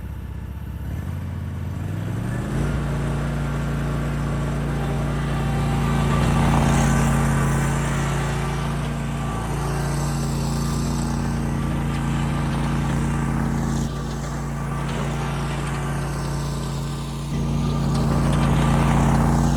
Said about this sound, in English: First up is the gas mower running, just kind of sitting there, and I'll increase the RPM and drive around a little bit too.